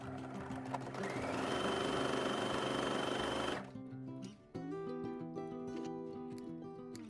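Sewing machine stitching the folded sides of an apron pocket, running steadily with a whirring hum that pauses briefly and then starts again, alone and close.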